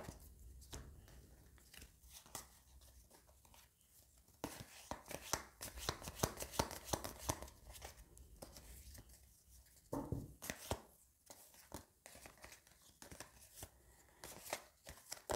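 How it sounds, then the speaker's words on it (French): Tarot cards are shuffled, flipped and set back in order on a table, producing soft papery slaps, riffles and taps in uneven bursts that are quiet and close, with a few louder flurries. "je vais essayer de remettre toutes mes cartes un peu de droite parce que là, du coup, tout est retourné"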